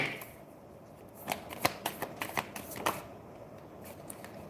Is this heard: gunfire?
no